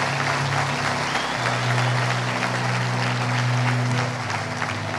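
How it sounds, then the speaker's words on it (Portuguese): Sustained applause from a church congregation during a communion service, dense steady clapping for about five seconds with a low sustained tone, likely music or organ, running underneath. "Dê uma salva de palmas a Ele"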